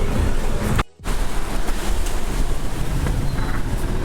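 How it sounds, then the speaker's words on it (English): Strong wind blows outdoors beside a cruise port ahead of a Carnival Vista Halloween cruise, a loud, continuous roaring buffet against the microphone that drops out briefly near the start and then returns steady, with no talk. "I wasn't expecting it to be so windy."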